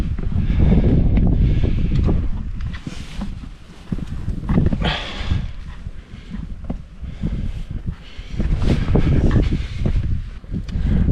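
Strong gusty wind batters the microphone high on the Crib Goch mountain ridge, roaring in uneven surges and buffets that rise and fall without pause. The wind is close and loud with no speech.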